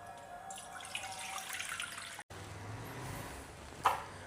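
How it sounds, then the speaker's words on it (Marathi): Water runs steadily from a tap into a sink as chicken is washed, with a brief pause midway and a small clatter near the end; no one speaks. "चिकन चांगलं धुवून झालेलं आहे मस्तपैकी स्वच्छ पाण्याने"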